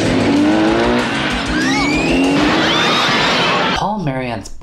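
Movie police chase on motorcycles, with screeching, skidding tires and roaring engines amid loud action-scene noise, ending in a sharp squeal and crash.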